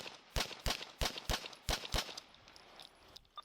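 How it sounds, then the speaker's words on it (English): Police gunfire during a confrontation: six sharp, loud shots in quick, fairly even succession, followed by quieter faint background sounds. "Shots fired, one down."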